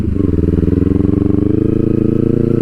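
A motorcycle engine runs close by at a steady, throbbing idle, its low pulsing rumble continuous throughout.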